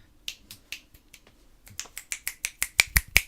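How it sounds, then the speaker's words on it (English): A run of about fifteen crisp finger snaps beside a Blue Yeti Blackout Edition microphone. They start faint and sparse, then come in a steady, quickening rhythm and grow louder and closer toward the end, with no talk. "Those snaps right there are from the side."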